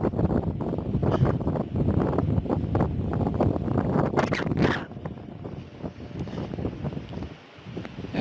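Gusty wind in a Norwegian forest rumbles steadily into the microphone for several seconds, loud and rough at first and easing slightly near the end, with no talking.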